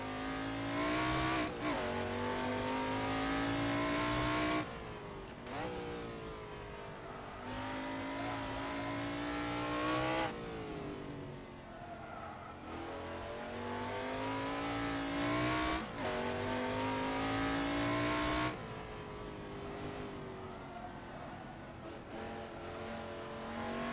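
Camaro Trans Am race car at Winton in Assetto Corsa, loud V8 engine climbing through the revs in repeated surges, cut by sharp gear shifts and lifts under braking, steady and close with no talking.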